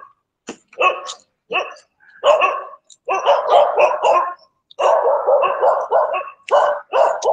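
Dogs barking at a Buddhist temple: sharp, close barks and yips come in irregular bursts with short silent gaps, some overlapping in rapid clusters.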